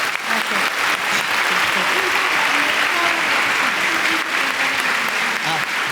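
Audience at an academic talk giving a speaker sustained applause, a dense wash of clapping hands that runs steadily throughout without letting up.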